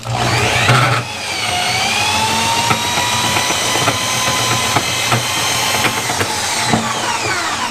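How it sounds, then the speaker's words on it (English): A drill-powered RIDGID K45 drain auger whines steadily and loudly up close while clearing a tub drain, its pitch shifting slightly as it spins, with occasional knocks and rattles. "pull the trigger on my drill, and here we go"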